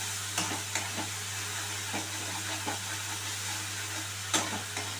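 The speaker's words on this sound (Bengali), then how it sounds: "ভালো করে মশলাটা আমি কষিয়ে নিচ্ছি" Ginger and fennel spice paste sizzling in hot oil while being fried and stirred, a steady bright hiss with soft scraping stirs at intervals, close up and without talk.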